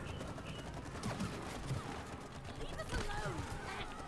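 Rapid bursts of gunfire in the co-op video game It Takes Two, steady and dense throughout, with voices talking over the shooting.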